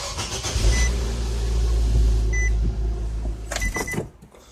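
A Nissan Versa engine runs just after an oil change, a steady low idle rumble close by, ending with a few knocks and a quick shutoff near the end.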